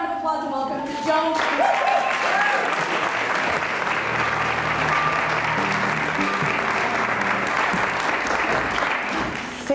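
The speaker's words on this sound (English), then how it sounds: "More round of applause" An audience claps loudly and steadily after a performance honoring an Alzheimer's story, a dense, sustained wash of applause that fills nearly ten seconds without pause.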